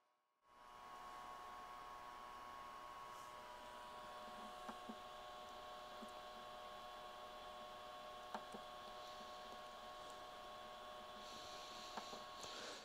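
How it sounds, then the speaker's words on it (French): A Sovol SV08 3D printer sits idle while its power supply fan whirs steadily, a quiet, constant hum with faint tonal whine and a few small clicks. "Le ventilateur qui est bruyant comme ça, hein, c'est le ventilateur de l'alimentation"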